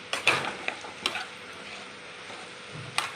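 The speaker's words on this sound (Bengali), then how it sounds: "টক দইটা দিলাম, দিয়ে এটা দিয়ে ভালো করে কষিয়ে নেব" Chicken stirred in a pan with sour yogurt and sugar produces a faint, low sizzle broken by a handful of sharp spatula clinks and scrapes against the pan, close and quiet, no voices.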